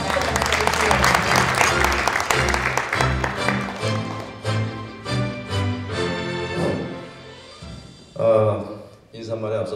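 A crowd applauds a professor at a graduation concert in a hotel hall, clapping mixed with music and a voice over the top, rising and falling through the moment.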